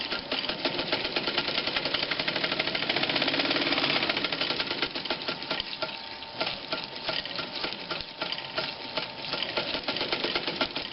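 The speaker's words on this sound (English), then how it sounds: "the best way to do it is to do a zigzag like this" A Read's sailmaker sewing machine stitches a zigzag at maximum width and stitch length, a fast steady mechanical chatter that runs continuously and close up without pause.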